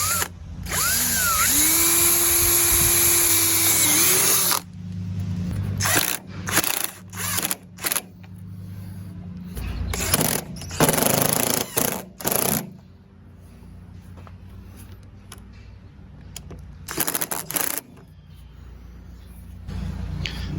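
Screws being driven with a power drill into a motorized awning arm bracket on a bus conversion, with a rising whine at first, then several short bursts of drilling separated by clatter and handling noise.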